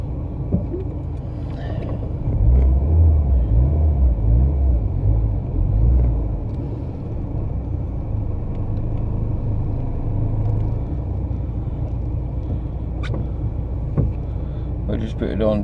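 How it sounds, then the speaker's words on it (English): A Rover 800 engine runs with a bodged temporary exhaust, giving a steady low rumbling drone throughout with a slightly louder swell early on, while people talk over it. "Doesn't sound bad considering we bodged that exhaust on me and Mick."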